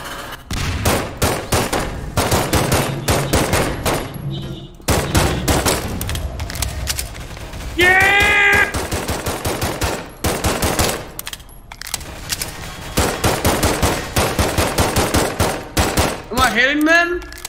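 Rapid gunfire from the video game The Backrooms runs almost continuously at close range. It is loud and dense, and two players' voices shout and talk over it.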